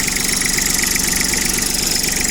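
A used Kubota Aste A17 Japanese mini tractor engine runs loud and close with a steady, rapid mechanical chatter, holding an even pitch throughout with no voices.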